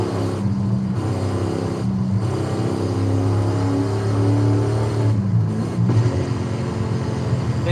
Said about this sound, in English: it honestly doesn't sound like it has a huge V8 in it